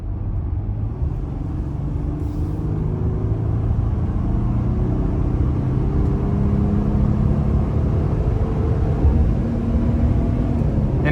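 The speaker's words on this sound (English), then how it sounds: "We're gonna give it a little throttle getting on the interstate" A 2021 Jeep Gladiator Mojave with a 3.6-litre engine accelerates onto an interstate, heard from inside the cab as a steady low rumble with engine tone rising in pitch as it gains speed, alone without talk.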